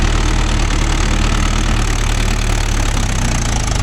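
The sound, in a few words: Mahindra Yuvo Tech Plus 585 4WD tractor engine running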